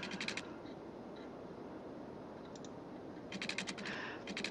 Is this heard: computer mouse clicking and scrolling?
yes